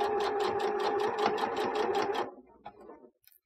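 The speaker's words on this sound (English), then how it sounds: "and then keep sewing forward." A sewing machine stitches forward along the seam of a fabric face mask in a rapid, steady run of needle strokes, close and loud, then stops after about two seconds, leaving a few faint handling clicks.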